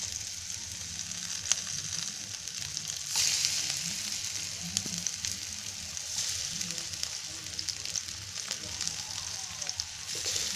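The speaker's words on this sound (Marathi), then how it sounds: "असं तेल तापलं ना की त्याच्यामध्ये असं एक एक वडी सोडायची" Cabbage vadi slices frying in hot oil, a steady crackling sizzle at low level with occasional clicks of a spatula turning them, heard without speech.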